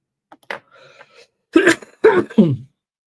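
A single sharp cough followed by a few rough, throaty clearing sounds in quick succession, close and fairly loud, with short pauses between.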